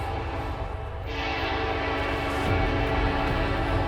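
An Amtrak train horn sounds close and loud, sustained and steady over the rumble of a passing train, growing slightly stronger toward the end.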